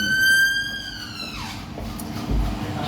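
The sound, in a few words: ambulance siren driving by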